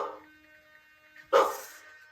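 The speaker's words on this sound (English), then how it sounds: "How about every time it flashes the eyes, it makes a noise? Let's make it bark." A toy robot dog plays a single short bark through its small onboard speaker, a sharp close burst after a faint electronic hum, standing alone with no talk.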